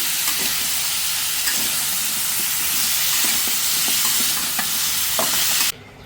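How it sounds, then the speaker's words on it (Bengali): Pumpkin and cumin fry loudly in hot oil while a spoon stirs, a dense close sizzle with scattered scraping clicks that drops away sharply near the end. "এবার সেই তেলের মধ্যে আমি আবার জিরা দিয়ে দিছি মিষ্টি কুমড়াটা দিয়ে দেবো"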